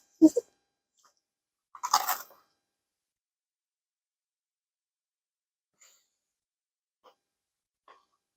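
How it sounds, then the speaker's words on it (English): Chocolate cookie bars being bitten and chewed up close, two short crunchy bursts early on followed by long near-silence with a few faint mouth sounds. "These bars are very good. They're crunchy. They're chewy."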